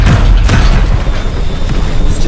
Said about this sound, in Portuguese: Preparar todos os canhões de este bordo.